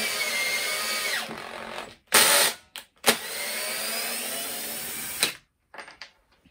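A DeWalt impact driver strains to drive a large screw at high speed, whirring loudly in several bursts separated by short silences, with a couple of brief final spurts.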